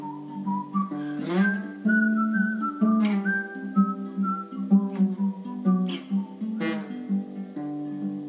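Someone whistles a melody up close, clear and loud, with sliding pitch, held notes and short phrases, backed by a steady instrumental accompaniment.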